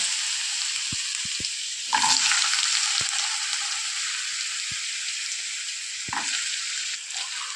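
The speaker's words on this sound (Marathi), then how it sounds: "आता आपल्याला यामध्ये आलू फ्राय करून घ्यायचे आहे" Potatoes frying in oil, a steady broad sizzle throughout with a louder burst around the second second and brief clicks and scrapes of a utensil in the pan.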